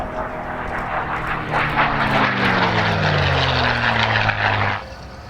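A propeller aircraft, one of 16,700 built, flies a display pass at the Wings Over Illawarra airshow, its engine droning loud and steady with a falling pitch as it passes, then fading near the end.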